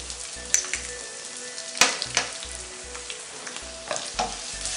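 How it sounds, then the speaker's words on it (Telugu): Curry leaves and turmeric sizzle in hot oil for a village-style chicken curry, a steady close crackle broken by stirring clatters and spoon scrapes against the pan. "పసుపు వేసుకొని బాగా కలుపుకుంటున్నానండి."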